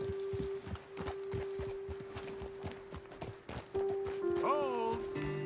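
Horse hooves clip-clop in a steady walking rhythm in the open-world western game Red Dead Redemption 2, close and moderately loud, with a sustained tone running underneath and a horse's whinny near the end.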